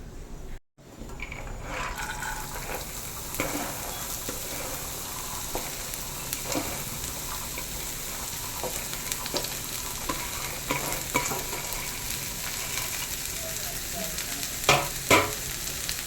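Chopped long beans are stir-fried in a pan over a mustard-seed tempering: a continuous oily sizzle, broken by repeated scraping and clicking strokes of a spoon, close and steady throughout.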